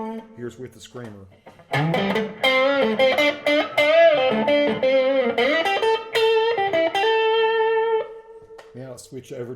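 An electric guitar played through a Behringer TO800 Tube Screamer overdrive pedal rings out close and loud with gritty sustained notes and a lead line, fading to a few quieter plucked notes at the end.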